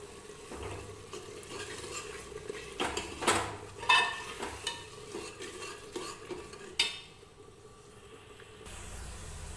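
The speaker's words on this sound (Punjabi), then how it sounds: "ਇਹ ਆਲੂ ਵੀ ਆਪਾਂ ਇਹਦੇ ਵਿੱਚ ਪਾ ਕੇ ਜੀ ਭੁੰਨ ਲਾਂਗੇ" Potatoes roasting with spices in a pan, stirred with a spoon that scrapes and clinks against the metal in irregular bursts over a soft sizzle, close and fairly quiet.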